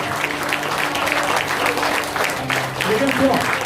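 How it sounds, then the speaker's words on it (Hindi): Audience in a live motivational team session clapping together in a steady, moderately loud burst of applause that runs throughout, with voices talking over it. "ये भी तालियां थोड़ा सा चैंपियन वाली नहीं है"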